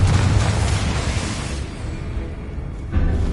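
A Confringo blasting spell going off in Hogwarts Legacy: a loud booming burst with a rumbling tail that fades, then a second sharp blast near the end.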